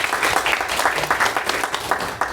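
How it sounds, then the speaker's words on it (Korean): A church congregation at a Sunday service claps in steady, full applause, a dense flurry of hand claps that stays loud for a couple of seconds. "새로 이렇게 섬기게 된 분들 다시 한번 박수하겠습니다."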